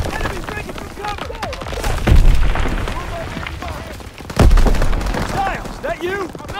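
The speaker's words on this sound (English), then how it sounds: "Gunfire! We must be near our guys." Two heavy gunshot-like blasts ring out amid continuous battle noise in the video game Call of Duty WW2, with voices shouting over the chaotic soundscape.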